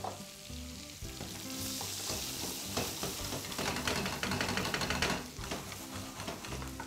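Vegetables sizzle and fry steadily in a hot pan, with repeated scraping and clattering as they are stirred, loud and close throughout with no talk.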